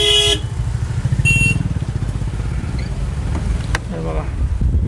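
Busy monsoon road traffic in the Lonavala–Khandala ghat, with motorcycle engines droning close and loud, a few car horn toots and honks cutting through, and voices murmuring among the vehicles.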